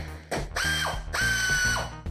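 A pneumatic air ratchet running on shop air gives two short bursts of fast, rattling clicks with a hissing whir, close and loud, with no voices.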